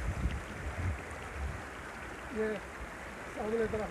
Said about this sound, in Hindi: ये साफ़ पानी बह रहा है